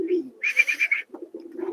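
Lotan pigeon chicks give a short run of soft, close cooing calls with a brief rhythmic burst in the middle, heard alone.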